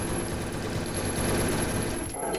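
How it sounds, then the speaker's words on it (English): Rapid, sustained machine gun fire from the video game Commander Cool 2, a dense continuous rattle at steady loudness that drops off near the end. "I found out why there's a machine gun."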